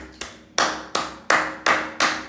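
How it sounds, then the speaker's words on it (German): A streamer claps his hands five times at a slow, even pace, each sharp clap close and loud and fading quickly, with no talking. "Da wird geklatscht, Chat."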